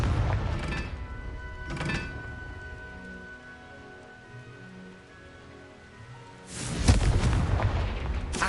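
Confringo fire spell explosions in the Hogwarts Legacy video game: two sharp broadband bursts early, a quieter rumbling stretch, then a loud, sustained explosive blast near the end.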